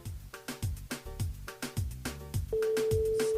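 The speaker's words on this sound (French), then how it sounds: "Allez, ça sonne." A telephone rings on a radio show's call-in line, a repeated ringing pattern layered over rhythmic tropical music, then settling into a steady sustained tone; no voices are heard.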